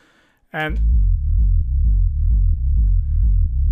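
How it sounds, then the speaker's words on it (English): A steady low synth sine-wave tone in a techno patch drones continuously after a brief bright chirp at the start, its pitch wobbling slightly in a slow repeating pulse. "the patch itself is just, as you can hear, is a basic kind of sine wave"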